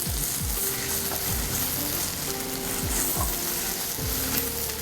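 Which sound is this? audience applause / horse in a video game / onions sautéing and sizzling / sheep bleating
onions sautéing and sizzling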